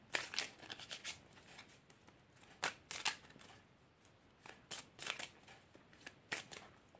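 Oracle cards are shuffled for a reading, giving quiet, crisp riffling bursts in irregular clusters with soft pauses between.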